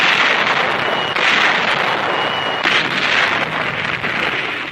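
German guns firing during a WWII landing rumble as a dense, continuous barrage of bursts and booms, loud and sustained without a clear break.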